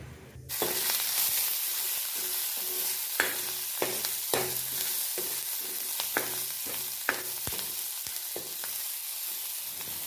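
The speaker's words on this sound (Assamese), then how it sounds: "এইফালে মই পিঁয়াজ হালধি জলকীয়া মিক্স কৰি আছোঁ" Onion, turmeric and chili fry in a pan under a steady close sizzle, while a spatula scrapes and taps through repeated stirring strokes, with no voices.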